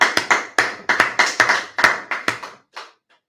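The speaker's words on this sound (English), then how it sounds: "Clap it up, clap it up, clap it up, come on" Rhythmic group clapping at a religious gathering, about a dozen sharp, evenly spaced claps in a steady beat, close and crisp, fading into a couple of softer final claps and silence.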